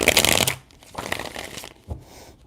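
Tarot cards being shuffled by hand, a quick riffling burst at the start, then a softer second shuffle and a brief tap, close and crisp with no talking.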